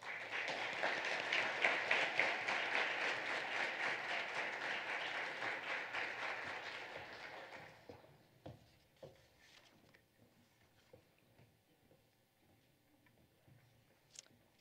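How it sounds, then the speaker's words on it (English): Loud applause from a crowd at a school assembly for students, a full wash of clapping that fades out around the midpoint, leaving scattered faint claps and small knocks in a quiet hall. "Please give these students a round of applause."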